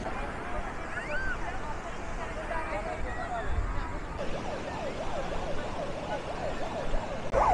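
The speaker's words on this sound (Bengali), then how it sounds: "এই লাইফ গার্ডের লোকেরা এই সাইরেন বাজিয়ে ডেকে নিচ্ছে যারা যারা দূরে চলে গেছে।" Lifeguards sounding a warbling siren at Puri beach to call back distant swimmers, heard moderately far over a constant crowd and surf murmur, rising and falling repeatedly toward the end.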